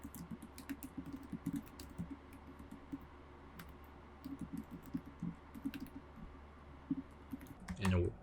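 Someone types at a computer keyboard while working in an R script, a soft, quick clatter of keystrokes in irregular bursts, with a louder thump near the end.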